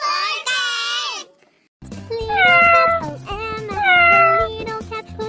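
A cartoon-style cat meows in a children's phonics song, with one drawn-out meow, a short pause, then two longer wavering meows over a steady musical backing.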